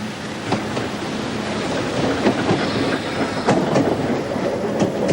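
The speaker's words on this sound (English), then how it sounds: "We're on the S-Bahn here, the city railway." A Berlin S-Bahn city train rumbles steadily along the rails with rhythmic clacking of wheels over joints, a continuous close interior ride with no talk.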